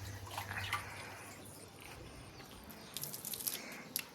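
Water is scooped from a stored water drum at a mountain home, with faint, brief splashes and trickles at the start and again near the end, in an otherwise quiet setting.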